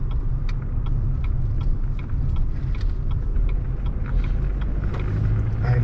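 A car drives along a mountain road near Anthony Lake campground on the Elkhorn Scenic Byway. Steady, loud engine and road rumble fills the whole stretch with no talking.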